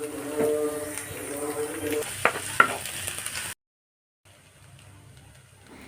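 Boiled potatoes stirred in a pan with sautéed onions and green chillies, a few scraping knocks over a soft sizzle and low hum, cutting off abruptly and returning faint and quiet.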